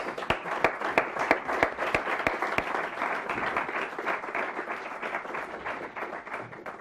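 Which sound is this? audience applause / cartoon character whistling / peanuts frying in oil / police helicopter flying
audience applause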